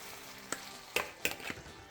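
Dungeness crab curry ingredients sizzle quietly in a pan while a utensil stirs, producing a faint hiss and three or four sharp scraping knocks close together.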